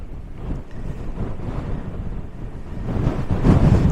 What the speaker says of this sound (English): the wind is so strong that it's unlikely, but I'll give it a go